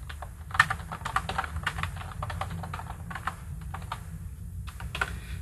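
Someone types steadily on a computer keyboard, a close, rapid patter of key clicks with brief pauses, continuing without any voices.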